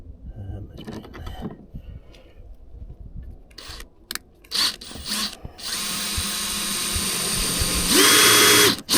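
A magnetic drill bores into rusty metal on a car, starting after scattered clicks and handling noises, then whining loudly and steadily as the motor spins up and bites harder near the end.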